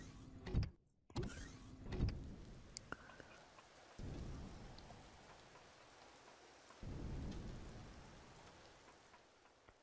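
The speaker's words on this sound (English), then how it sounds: "Now it's raining" Rain falls in Empyrion Galactic Survival, a steady hiss with several sharp bursts early on, then swelling rumbling waves of rain that rise and fall.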